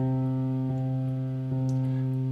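A sustained piano note rings with the sustain pedal held down, a steady, even tone lasting throughout with faint soft clicks under it.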